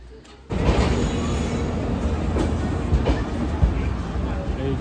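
Passenger train running on the rails after departing NJP station, a steady close rumble and rattle inside the carriage that starts abruptly and continues throughout, with faint chatter underneath.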